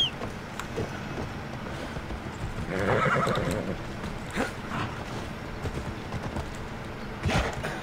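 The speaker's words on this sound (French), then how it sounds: "Cheval." A horse in the video game Assassin's Creed Odyssey gives a clear whinny midway, with soft hoof clip-clops around it, fairly quiet and without talk.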